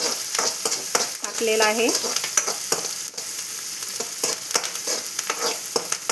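Two finely chopped onions sizzle in hot oil for a boneless chicken dish, a steady close frying hiss broken by repeated spoon-stirring scrapes, with a brief spoken phrase partway through.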